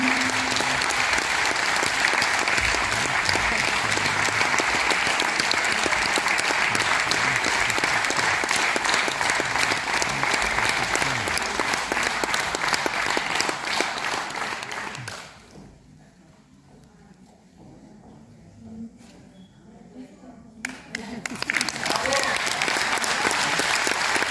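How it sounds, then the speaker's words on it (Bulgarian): An audience at an Armenian church's 100th anniversary celebration in Haskovo applauds a dance group, with steady dense clapping that carries on for about fifteen seconds and then stops, followed by a quiet pause before the clapping starts up again. "Аплодисменти за танцов състав Ареванхаз, град Русе"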